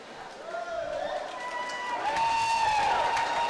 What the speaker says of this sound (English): Everybody's clapping like that one counted.